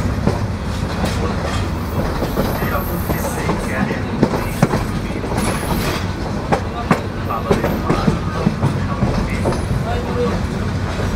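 A passenger train in Bangladesh running just after leaving Santahar Junction, a loud continuous rumble with steady wheel clatter and occasional sharp clicks from the track, heard from inside the train.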